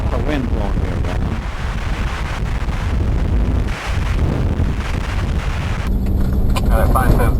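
Strong wind buffets the microphone at Cathedral Valley Overlook near Moab, a loud continuous roaring rumble with gusty surges throughout and no talk.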